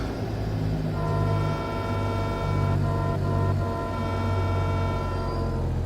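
In a truck driving video game, a modded truck air horn blares in a sustained, chord-like tone at moderate volume over a steady engine rumble, with a short break in the middle.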